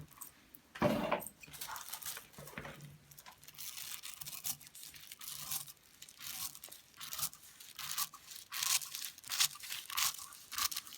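Sharp scissors snipping through rayon fabric laid flat on a cutting surface, a run of crisp, close cutting and crunching strokes with irregular rhythm and no talking.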